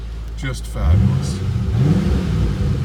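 Engine rumble from a 2007 Shelby GT with a Hurst short shifter, a low steady idle that swells briefly as the throttle is blipped, heard close by with someone talking over it.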